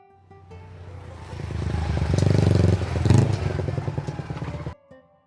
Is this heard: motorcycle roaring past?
yes